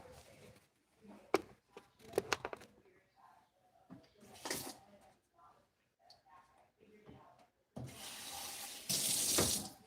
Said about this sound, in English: We're gonna add some water.